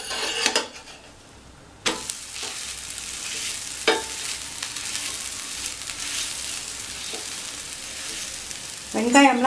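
Adai lentil dosa with onion and asafoetida frying in oil on a pan over medium flame, a steady close sizzle with a few sharp taps and scrapes of a spatula, no talking.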